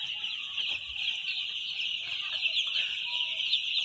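Five-day-old chicks in a poultry house holding about 2000 birds, a dense constant chorus of high peeping with occasional louder calls, steady and moderately near.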